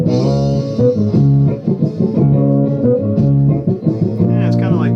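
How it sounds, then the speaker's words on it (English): A bass guitar run through an octaver effect plays a bouncy, disco-like line with a weird doubled tone, loud and close, with short notes in a steady groove. "it has a very weird bass tone."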